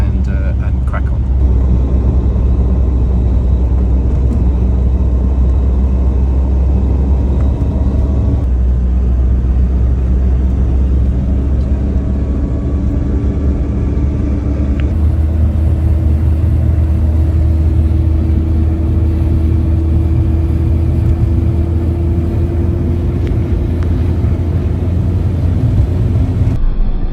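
A 1973 Citroen DS Super 5 cruising along an open road, with a steady low engine drone and road rumble throughout, the pitch shifting slightly as the car changes speed partway through.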